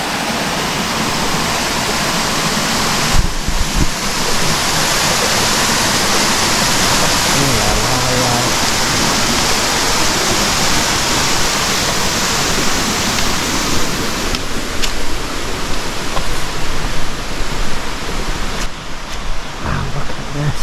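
A small waterfall in Bali rushes loudly and continuously, a dense roar of falling water that stays close and steady throughout.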